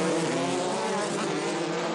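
Racing cars roar around the Brands Hatch circuit, a loud, continuous engine wail at close range that holds steady for the whole stretch, with no talking over it.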